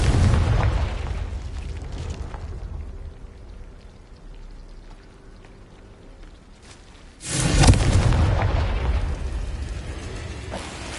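A Confringo explosive spell blast in the Hogwarts Legacy video game erupts as a sudden loud burst midway, with rumbling, crackling debris trailing off over a low ambient bed.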